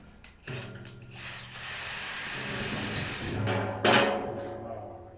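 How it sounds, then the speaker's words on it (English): A power drill fitted with a hole saw spins up and bores for about two seconds, its high whine steady and loud, then stops before a sharp burst of noise near the end. Faint talk and shop clatter sit around it. "See if it drills any better."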